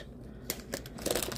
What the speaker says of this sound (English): My little trusty little scissors.